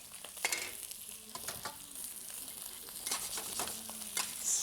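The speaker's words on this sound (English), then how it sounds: "I am going to also stir fry this. Oil, hot," Food stir-fried in hot oil for a chicken and ginseng soup, a steady crackling sizzle with intermittent scraping strokes of the spatula against the pan, close and fairly quiet, without speech.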